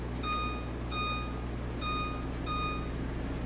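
A kitchen timer beeps in short bursts of high electronic tones, four clusters spaced roughly evenly apart, close by over a low steady background hum.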